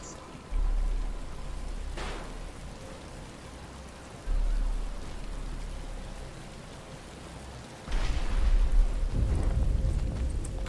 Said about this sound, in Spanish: Pero está empezando a llover y Bruce está cansado